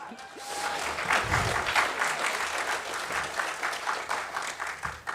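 An audience at a game developers' conference talk claps steadily for several seconds, a dense wash of applause from a crowd in a room.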